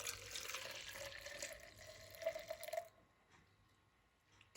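Soaking syrup for a Milka trifle dessert is poured into a bowl as a faint, continuous trickling pour that stops short, followed by quiet room tone.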